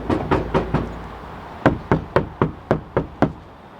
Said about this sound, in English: So Baron, knock on that door.